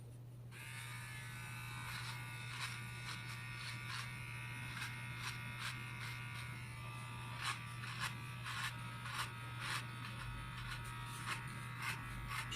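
Bimirth kids hair clippers fitted with a 6mm guide comb trim a child's hair at home, giving a steady, close electric buzz that runs throughout with small shifts as the blades move through the hair.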